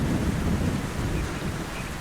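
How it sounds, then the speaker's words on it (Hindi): Sudden heavy rain in an animated story roars as a dense, loud wash of noise with a low rumbling undertone, holding steady throughout. "ये अचानक बारिश कहाँ से आ गई?"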